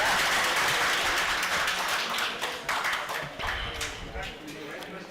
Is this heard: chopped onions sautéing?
no